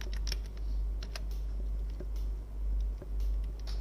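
Close typing on a computer keyboard while writing CSS padding code, a run of quick uneven clicks over a strong low hum.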